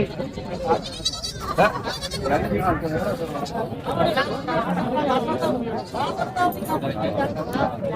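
Goats bleating at a busy livestock market, several animals calling repeatedly amid a loud crowd of people chattering and talking close by.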